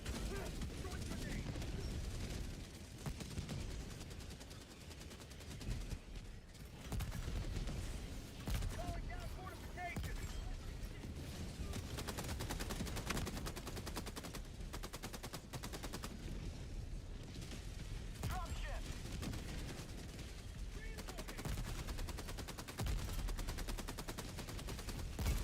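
A heavy machine gun in Helldivers 2 fires in long, rapid bursts, loud and dense, with short pauses between strings of shots and a voice talking intermittently over the gunfire.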